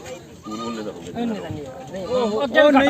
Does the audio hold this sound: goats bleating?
yes